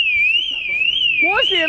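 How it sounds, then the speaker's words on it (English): A steady warbling electronic panic alarm from a modified truck sweeps up and down continuously, with a voice breaking in near the end. "Why is the alarm going off?"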